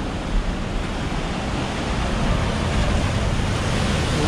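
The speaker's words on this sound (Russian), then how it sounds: "судя по всему, начинается уже прилив" Incoming tide washes seawater into an abandoned coastal mine at Cligga Head, giving a steady, loud, broadband rush of surging water with no breaks and no voices.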